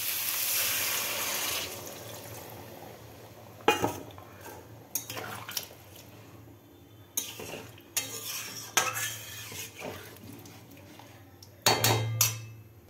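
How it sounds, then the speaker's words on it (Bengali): Water splashes into a pan of sautéed potato curry for about two seconds, then a spoon clinks and scrapes against the metal pan in irregular stirring strokes. "আমার কষানো হয়ে গেছে, আমি এবার জল দেবো।"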